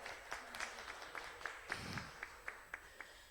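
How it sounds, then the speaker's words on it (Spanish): Sparse audience applause at an indoor event, a handful of separate claps ringing out at a fairly even pace, faint and thin against quiet room background. "Otro aplauso, por favor."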